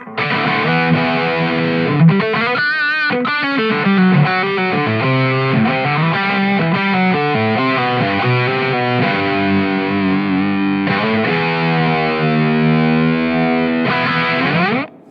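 Electric guitar through a Boss OD-2 Turbo overdrive pedal in turbo mode, gain all the way up, playing continuously, a thick, gritty crunch with sustained chords and short riffs, loud and up close with no talking.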